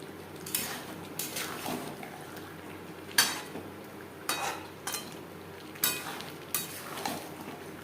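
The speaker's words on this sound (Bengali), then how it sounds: "হাই ফ্লেমে আলুর সাথে চিকেন আরও দু তিন মিনিট নাড়াচাড়া করব" Potatoes and chicken for a chicken curry being stirred in a pan over a high flame, with repeated spatula scrapes and clatters at irregular intervals over a continuous sizzle.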